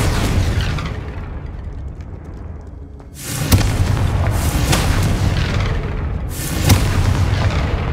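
Confringo fire-spell blasts in the Hogwarts Legacy video game land as two loud, booming explosions a few seconds apart, each with a rumbling tail, with no voices.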